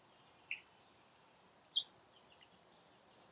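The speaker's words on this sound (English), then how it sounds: "Oh, it looks like a red-winged blackbird." A red-winged blackbird, caught at a wetland bird-banding session, gives a few faint, brief chirps spaced about a second apart over a quiet background.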